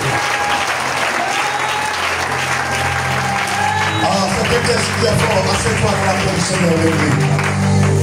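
A church congregation breaks into loud, sustained applause that swells and fills the room, with voices and cheering mixed into the clapping.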